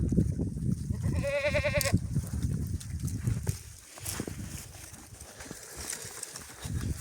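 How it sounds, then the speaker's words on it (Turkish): Goats bleat nearby, one clear wavering cry standing out over a busy background of shuffling and rustling livestock. "Keçiler sarıldılar yiyorlar."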